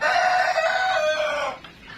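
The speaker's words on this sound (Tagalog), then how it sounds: "Dami ring sisiw dito sa part na to." Native heritage chickens and chicks on a farm, with a loud, near rooster crow lasting about a second and a half before trailing off into quieter background clucking.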